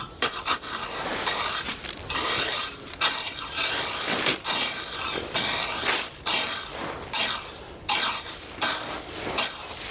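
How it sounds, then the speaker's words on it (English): Rhythmic crunching scrapes of frozen gravel lumps being broken up in an allotment tunnel on a winter afternoon, about a dozen close, evenly spaced strokes with no talk. "Just break up some of the frozen lumps in it."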